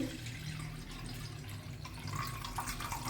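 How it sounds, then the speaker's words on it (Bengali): Water pouring into a wok on a lit stove, a steady continuous splashing pour with a low hum beneath, fairly close and constant throughout. "পরিমাণ মতো জল দিচ্ছি"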